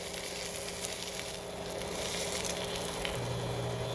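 Thick cabbage slices and pork neck steak frying in a pan, giving a steady, close sizzle with occasional crackles and no talk.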